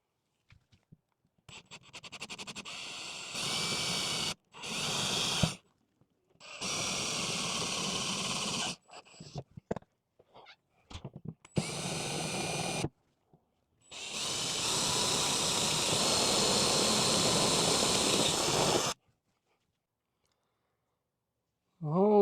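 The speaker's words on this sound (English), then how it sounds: "This time, we're using a step up bit, which will make life a little bit easier." Power drill fitted with a step bit boring holes in a 2022-plus Subaru WRX for a rear wing, running in several steady bursts of a few seconds each, the longest near the end, separated by quiet pauses and light clicks.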